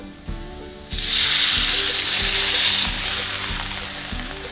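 Garlic and shallots sautéing in a hot pan for a steamed stuffed eggplant dish: after a few soft knocks, a loud, close, continuous sizzle bursts up and holds steady for several seconds, with no voices.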